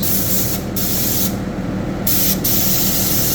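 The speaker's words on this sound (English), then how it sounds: "now we're going to spray the bamboo lid" A steady, loud hiss of spray onto a bamboo lid during pad printing runs almost continuously, with a few brief breaks where the stream stops and restarts.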